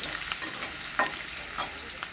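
Onion fries in a pan for an okra fry, with a loud, constant sizzle and occasional scraping stirs of a spoon against the pan.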